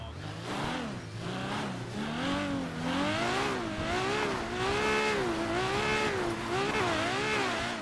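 A video game car spins donuts, its engine revving in rising and falling waves while the tires squeal continuously, loud and close throughout.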